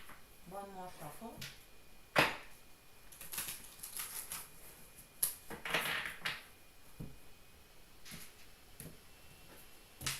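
Tarot cards shuffled close by during a reading, with crisp riffling bursts and scattered sharp clicks, a voice speaking softly in between.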